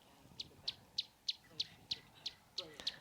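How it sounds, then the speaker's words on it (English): A small bird in a tree sings a series of about ten sharp, evenly spaced high chirps. The notes are fairly faint and come over a quiet outdoor background. "I've got this very cute little bird in the tree above me."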